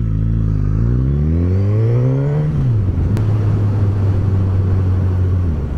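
A 2019 Suzuki GSX-S1000 motorcycle with a K5 engine revs hard and climbs in pitch, drops through a gear change, then holds a steady loud drone, close and with no voices.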